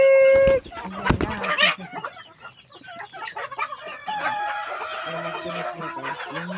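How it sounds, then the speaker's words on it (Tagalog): Backyard chickens cluck and squawk in a lively, overlapping cluster close by, with loud bursts near the start giving way to irregular clucks and calls from the flock. "Ayan, mga chicken."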